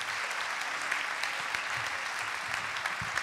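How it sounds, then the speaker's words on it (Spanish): A live audience applauds steadily for a Colombian senator arriving on stage at a talk event, a dense even patter of clapping from the crowd with no voices over it. "Fuerte el aplauso para él, por favor."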